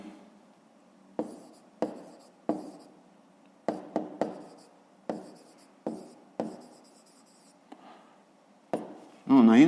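A pen or chalk writes numbers by hand for a fifth-grade maths exercise, making a series of sharp taps and short scratchy strokes at irregular intervals, ending in a brief louder burst.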